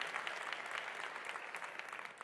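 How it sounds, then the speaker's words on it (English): A keynote audience claps together in a continuous, even burst of applause that fills the room from start to finish at moderate volume. "Let's applaud that."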